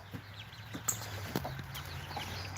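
A hen and her chicks on a farm, with soft scattered clucks and brief peeps at a moderate distance over a low, steady background hum.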